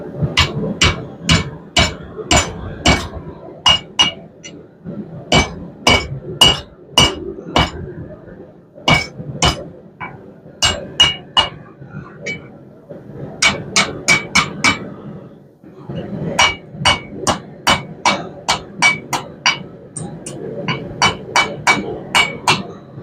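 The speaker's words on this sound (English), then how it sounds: "we'll hammer it down to where it touches." Repeated ringing hammer blows on a bent steel hook being forged into a campfire cooking tripod, struck in quick bursts of several rhythmic strikes with short pauses between, close and loud.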